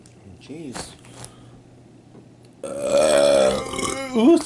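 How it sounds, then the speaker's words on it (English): A loud, drawn-out burp after drinking Coke, rising suddenly out of a quiet room and lasting over a second with a rough, throaty tone, followed by a short voiced tail. "apparently a burp just came out well"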